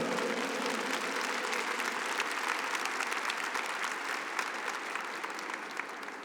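A church congregation applauds together during a service, dense continuous clapping filling the room at an even level from start to finish, with no voices standing out.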